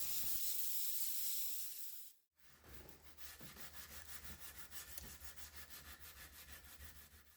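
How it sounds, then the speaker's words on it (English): Rhythmic scratchy rubbing strokes of hand sanding a stainless knife blade, a soft steady hiss followed by a brief pause and regular back-and-forth strokes. "I'm done hand sanding"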